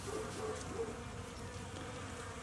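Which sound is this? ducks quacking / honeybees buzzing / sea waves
honeybees buzzing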